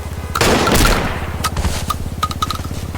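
Rapid automatic gunfire in GTA5 roleplay, a loud close burst of shots followed by a steady rattling stream of fire continuing throughout.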